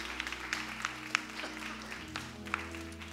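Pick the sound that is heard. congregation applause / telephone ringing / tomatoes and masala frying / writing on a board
congregation applause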